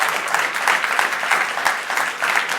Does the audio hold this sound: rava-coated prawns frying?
no